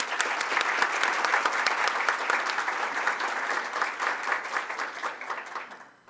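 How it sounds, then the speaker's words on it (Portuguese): Sustained applause from a large audience at the opening session of a rare-epilepsy symposium, dense steady clapping at close range for about six seconds before tapering off at the end. "Eu vou pedir licença e vou pedir mais um aplauso em nome do Daniel Braz"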